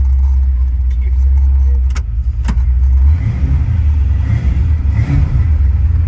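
Manual transmission car accelerating, a loud close engine rumble that rises and dips as gears change, with some rattling inside the cabin and people talking over it.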